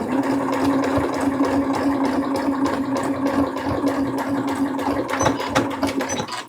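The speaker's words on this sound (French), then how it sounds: "Et comme pour le départ, je remonte pour finir ma surpiqûre." A sewing machine runs in a steady, rapid mechanical chatter, loud and close, as it topstitches the hood of a beach poncho, with a few clicks toward the end.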